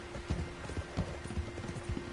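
A horse's hooves clop in a quick, regular rhythm as it is ridden in Red Dead Redemption 2, steady and fairly close, with a faint tonal hum in the background.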